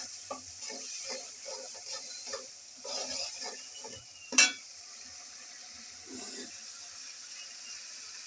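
Spice paste being sautéed in a pan for a tangra fish dish, a soft sizzle under intermittent scraping stirs, with one sharp metallic clink midway, fairly quiet and close, no speech.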